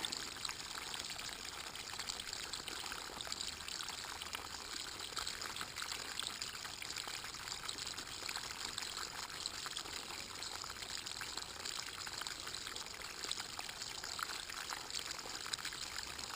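Water rushes in a steady, even stream, a constant soft hiss with no pauses, fairly faint and distant.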